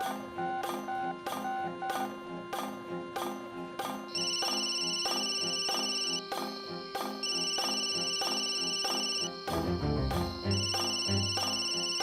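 A telephone rings repeatedly in a home setting in a Marathi TV serial, a steady electronic ringtone pattern with regular repeating bursts, fairly loud and clear, with a brief rustling noise near the end and no talk.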